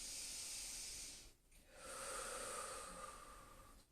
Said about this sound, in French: on va se concentrer sur notre respiration